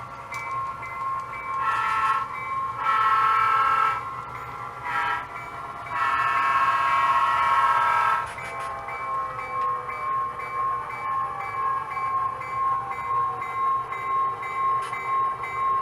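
A switcher locomotive on a local line sounds its horn in several long blasts while backing up to couple a caboose, then rumbles on with steady rail and engine noise, no talking.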